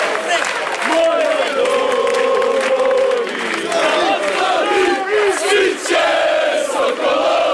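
More than 10,000 protesters and football supporters chanting together at a rally in Široki Brijeg, a loud, massed roar of voices in rhythmic waves with some clapping, close and unbroken throughout.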